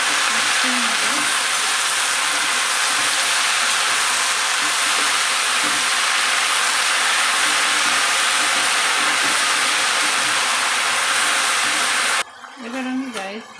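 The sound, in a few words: leafy greens being added to a pan and sizzling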